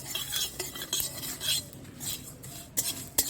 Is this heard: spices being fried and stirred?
yes